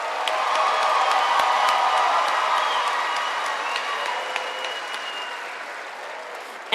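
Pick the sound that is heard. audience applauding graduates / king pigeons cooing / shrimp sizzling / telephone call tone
audience applauding graduates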